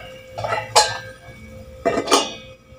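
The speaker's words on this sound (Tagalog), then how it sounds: "Takpan ko lang muna." A lid goes onto a cooking pot of ground beef, making two short metallic clanks about a second apart, close and clear, with nothing else around them.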